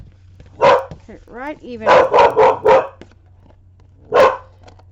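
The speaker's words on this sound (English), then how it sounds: "It's my dog." Pet dog barking indoors: a single bark, then a quick burst of four barks and one more bark a second or so later, fairly close and loud, with quiet talk between the bursts.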